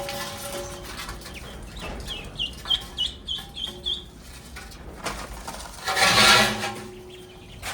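Ducks flapping their wings and calling, a run of short quacking calls in quick succession followed by a loud burst of wing flapping, close by with rustling around them.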